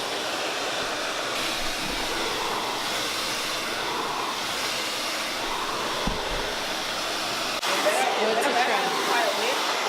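A hair dryer blows steadily during a salon blowout and trim on natural 4C hair, a continuous loud airy roar for the whole stretch with a shift in tone near the end, and voices murmur faintly beneath it.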